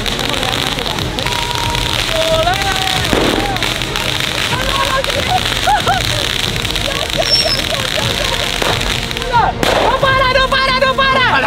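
Firecrackers bursting during a neighbourhood firecracker battle, sharp bangs and crackles scattered throughout amid shouting and excited voices, with whistling and squealing tones and a denser burst of pops near the end.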